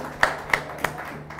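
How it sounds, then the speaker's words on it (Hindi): A few sparse hand claps from an audience at a poetry and politics stage event, three distinct sharp claps spaced about a third of a second apart, then fading out into quiet room noise. "एक बार जोरदार तालियां हो प्रतीक गुप्ता जी के लिए"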